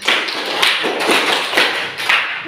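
A crowd claps together in loose bursts, the noisy applause swelling in a few rough, rhythmic pulses, close and loud.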